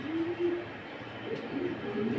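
Pigeons coo softly at a pigeon farm, low repeated calls over a steady background hum, fairly faint and close.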